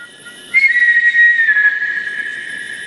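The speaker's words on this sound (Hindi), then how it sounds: "ये सीटी वही बजा रहा है।" A shrill, sustained whistle sounds in a dubbed South Indian movie scene, entering suddenly and holding a single wavering high tone for over two seconds, loud and clear with no talk.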